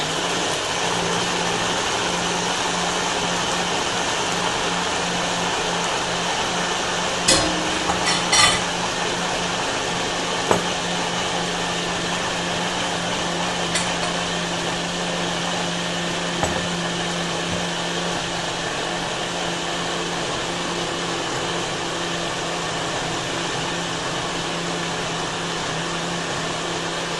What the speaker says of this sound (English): we simply put the base on our blender, right? Shake it up a little bit, and we just blend it out